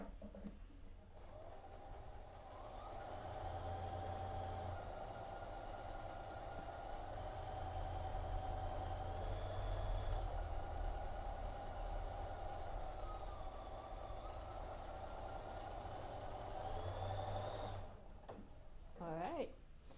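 A sewing machine stitching a quarter-inch quilt seam runs steadily for nearly twenty seconds, a continuous close motor whir with slight speed shifts, stopping briefly near the end.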